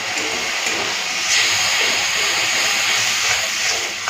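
A spice paste with Kashmiri red chili powder, salt, sugar and a little water fries in a pan, giving a loud, continuous hissing sizzle that swells slightly midway and carries no speech.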